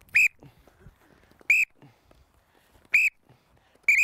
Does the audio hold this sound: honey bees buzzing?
no